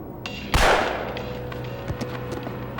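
A single sharp gunshot cracks out in a staged crime-scene reenactment, loud and close, followed by a fading tail and faint background tones.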